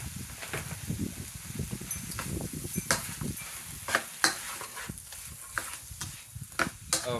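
Broccoli and shrimp are stir-fried in a pan, with a soft background sizzle broken by repeated scraping and clattering stirs at an irregular rhythm, close by.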